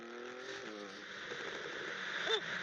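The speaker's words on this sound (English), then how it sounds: "that's very loud, especially those crackles" Porsche 992 Turbo S revving on the autobahn, a rising engine howl with a few sharp exhaust crackles near the end, heard at a distance and fairly quiet.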